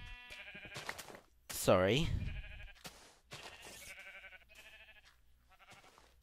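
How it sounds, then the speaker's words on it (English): Minecraft sheep bleating in a video game, several short baas spread across the moment, one loud close bleat in the middle, with a person talking briefly over the game sounds. "Don't hit the sheep."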